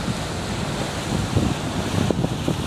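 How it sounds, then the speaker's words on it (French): Sea waves wash against the north jetty at Port Ouest the day after Cyclone Batsirai, with steady wind buffeting the microphone; a continuous close roar of surf carries a few louder surges near the end. "les vagues,"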